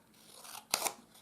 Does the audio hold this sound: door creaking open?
no